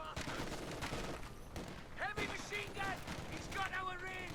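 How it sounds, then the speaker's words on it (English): In the video game Company of Heroes 2, a machine gun fires on an infantry section in a dense urban battle. Rapid bursts of gunfire mix with other battle noise and a voice talking over it. "MG opening fire on the infantry section."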